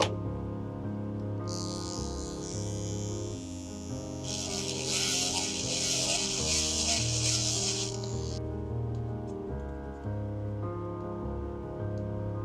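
A painted part of a model kit being filed down, giving a hissing, scratchy rasp in two stretches, the second longer and louder, close up over a steady background hum, no talking.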